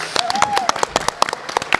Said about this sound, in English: Can we get a clap, please?